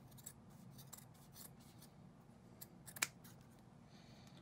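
Scissors cut out a piece of sewn fabric, producing quiet close snips and soft rubbing, with one sharper clip near the end over a low steady room hum.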